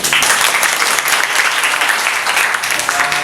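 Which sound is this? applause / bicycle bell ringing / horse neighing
applause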